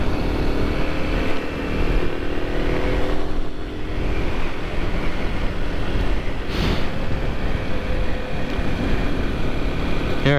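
A Kawasaki KLX 300 supermoto motorcycle rides along at a steady pace, its engine droning continuously with strong wind rush over it and a brief dip partway through, close and loud, with no talking.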